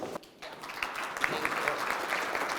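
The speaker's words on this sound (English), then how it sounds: "Let's get a round of applause for Tawana." Applause rises after a short pause and continues at moderate volume from a morning coaching gathering, with scattered claps filling the room.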